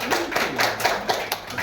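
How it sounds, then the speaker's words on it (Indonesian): Several sharp hand claps in an irregular, sparse burst from a small group at a school teachers' learning-community event, close and fairly loud, with no talk. "saya minta tepuk tangan dari kita semua"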